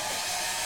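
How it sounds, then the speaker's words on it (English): A hair dryer blows with a steady, loud, airy roar throughout the short moment, no other sounds. "this is a freaking hairdryer"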